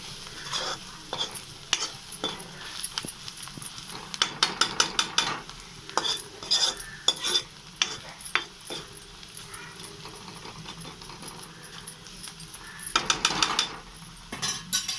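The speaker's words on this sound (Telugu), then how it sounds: "తర్వాత ములంకాయలు కూడా వేసి వేయించుకోవాలి." Chopped onions and eggplant fry with salt, chili and turmeric in a pan, a steady sizzle broken by frequent scraping spatula strokes and clinks against metal, close and continuous with no talk.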